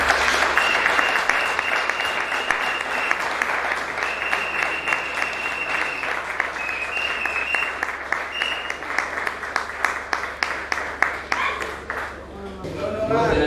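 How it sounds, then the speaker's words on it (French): A crowd claps loudly and continuously as deputies step forward at a Congolese public gathering: dense, sustained applause close by, with a steady high ringing tone running through it before it tapers off at the end. "nous acclamons très fort"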